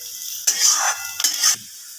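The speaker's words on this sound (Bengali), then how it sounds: "গাজরগুলো একটু বেশি সময় ধরে ভেজে নিতে হবে" Two short bursts of hissing sizzle with scraping as carrots are stirred and fried in a pan for fried rice, separated by brief quiet.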